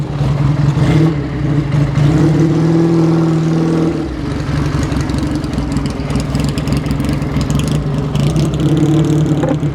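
An Indian Scout motorcycle engine revs loudly nearby as it rides off, with steady rising and falling engine tones that continue throughout with no talk.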